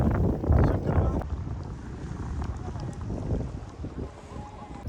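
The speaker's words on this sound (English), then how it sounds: "Me and my partner are kayaking now" Kayak paddling on Halong Bay, Vietnam, with water sloshing and paddle strokes under steady wind buffeting the microphone, and brief voices near the start.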